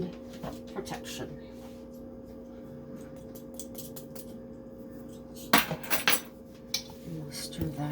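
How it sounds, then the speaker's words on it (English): A utensil stirs cinnamon into a pumpkin cookie mixture in a bowl, giving scattered clinks and scrapes that grow louder and denser late on, over a steady background hum. "And we'll stir that in."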